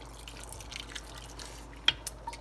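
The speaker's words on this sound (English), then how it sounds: "The water is a little low, so I will add a little bit more." Water added to a pot of green bananas and goat meat: soft trickling and dripping near the pot, then a few distinct splashy drops toward the end, all faint against a quiet kitchen background.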